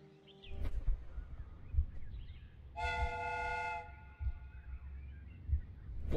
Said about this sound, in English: The steam whistle is ready to be used.